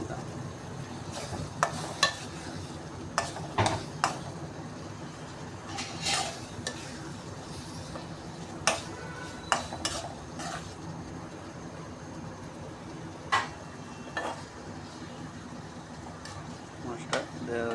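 Fish frying in a pan makes a steady low sizzle and bubbling, broken by repeated clanks and scrapes of stirring against the metal at uneven intervals.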